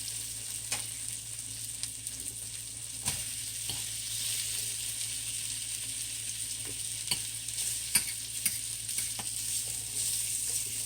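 Peppers and onions sizzle steadily in brown porterhouse steak pan juices, a continuous bright hiss with occasional louder spatters and pops, moderately close and with no one talking.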